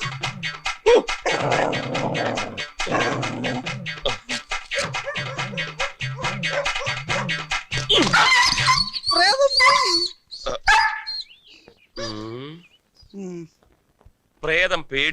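A dog barks and whimpers in a scene from the Malayalam film Nerariyan CBI, short yelps and barks mixed with people talking, followed by louder scratchy noises and tonal sounds near the end.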